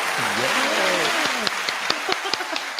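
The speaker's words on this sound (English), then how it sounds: "There's applause." Audience applause for a comedy act, scattered claps and cheering with a few sharp distinct hand claps standing out near the end, over a brief sliding vocal sound early on.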